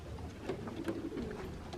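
Domestic pigeons in a loft, including a slate cock, cooing softly in short repeated murmurs at moderate distance with no talking.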